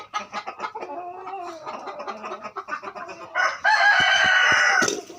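Tiger chickens on a farm cluck in short bursts, then a rooster crows loudly and close at the end.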